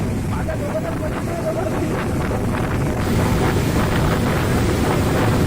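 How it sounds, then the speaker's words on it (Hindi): Loud, steady rush of floodwater during heavy monsoon rain in Maharashtra, a broad continuous roar with wind buffeting, swelling slightly louder halfway through, with no voices. "दूर तक पानी बहने की आवाजें लोगों को डरा रही हैं।"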